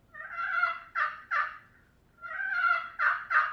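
A hunter's turkey call produces two runs of yelps, each opening with a drawn-out, dragged note followed by two shorter yelps. The calls are close and clear, with a quiet pause between the runs.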